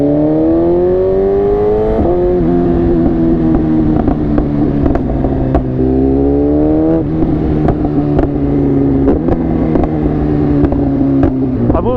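A 1000cc sport motorcycle with GP shifting revs loudly and close, its engine pitch sliding down and climbing again through several gear changes, with sharp clicks and pops scattered across the steady roar.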